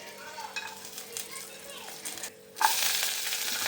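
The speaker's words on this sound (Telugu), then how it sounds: "పసుపు చిల్లీ పౌడర్ వేసి ఫ్రై చేస్తున్నా" Tomato, onion, turmeric and chilli powder fry in a pan for paneer masala curry, a soft sizzle with faint voices in the background, then a sudden louder burst of sizzling as more goes into the hot pan.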